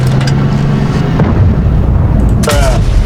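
Tank cannon fire in the video game World of Tanks: heavy booming shots with a rumbling low-end body, one near the start and another sharp blast around two and a half seconds, over a constant engine drone.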